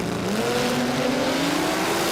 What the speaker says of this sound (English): Rod in the altered supercharged 6-cylinder.